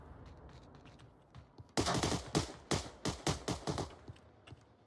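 Rapid bursts of gunfire from the Onward VR shooter during a tournament match, a dense volley of about ten sharp cracks fired in quick succession after a quiet start, fairly loud with no voices over them.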